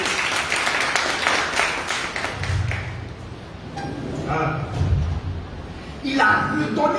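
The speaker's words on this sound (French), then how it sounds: "Est-ce qu'on peut applaudir pour ça?" Applause from a church congregation during a sermon, a dense patter of clapping that swells for a few seconds and then fades under the preacher's voice and background sounds.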